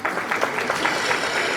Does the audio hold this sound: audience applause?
yes